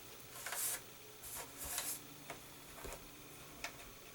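A GoPressFoil foiling machine runs with a string of irregular mechanical ticks and clicks, some louder bursts among quieter ones, heard close by with nobody talking.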